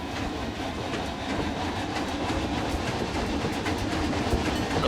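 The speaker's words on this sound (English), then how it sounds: "there goes the train." Train rolling along its track in the video game Planet Coaster 2, a steady dense rumble with faint clickety-clack, constant and moderately loud throughout, no voices.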